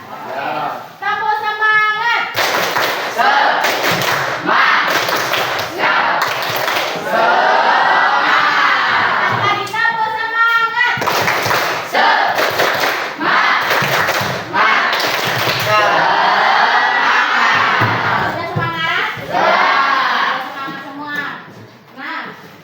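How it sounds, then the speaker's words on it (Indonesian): A class of schoolchildren chants and claps a rhythmic 'tepuk semangat' cheer, loud and close, with bursts of group voices and sharp clap patterns repeating through the room, a teacher's voice leading between rounds. "Tepuk semangatnya gini, tepuk semangat."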